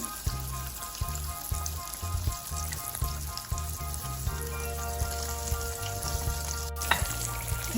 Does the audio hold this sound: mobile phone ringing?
no